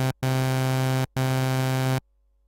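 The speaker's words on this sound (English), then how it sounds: "The next waveform is the sawtooth" A synthesizer oscillator set to a sawtooth waveform plays a steady, bright, buzzy tone with a dense stack of harmonics. It sounds twice at the same pitch, each note just under a second long, separated by a brief gap, and then stops.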